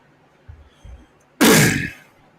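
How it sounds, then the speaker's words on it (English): A person with asthma coughs: two faint short throat sounds, then one loud, harsh cough burst close to the microphone that fades within about half a second. "Sorry about the coughing"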